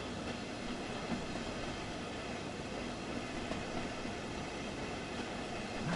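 Train running on the Ruhr Sieg Nord route in Train Sim World, heard as a continuous rumbling roll with faint rhythmic rail clatter, steady and moderately loud throughout.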